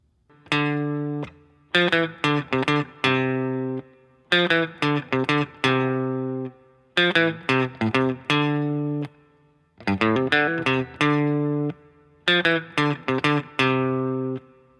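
A distorted electric guitar plays a short, repeating riff in choppy bursts of quick notes separated by brief pauses, loud and alone.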